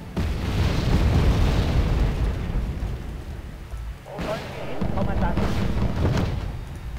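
Bombs exploding in the real-time strategy game Wargame Red Dragon: heavy rumbling blasts, one sustained roar followed by a couple of sharper booms, fairly loud, with voices talking over them.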